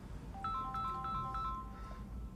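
Mobile phone ringtone playing a short bright electronic melody of repeated chiming notes, fairly faint over a low background rumble.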